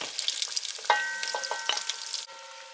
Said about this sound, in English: So now that my halloumi fries have been fried, I'm going to remove them from the oil.